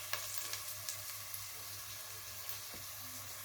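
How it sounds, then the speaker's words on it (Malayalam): Chopped onion sautéing in a pan with cumin seeds for egg biryani, a steady close sizzle broken by a few light stirring clicks and scrapes. "ഒരു ഉള്ളി അരിഞ്ഞത് വഴറ്റിയെടുക്കാം."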